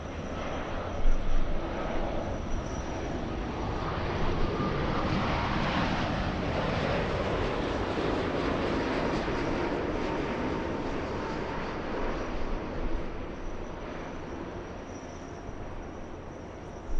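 A Boeing 787 Dreamliner jet at LAX produces a steady, broad engine roar that swells and then slowly fades, heard from a distance with some wind buffeting and no speech.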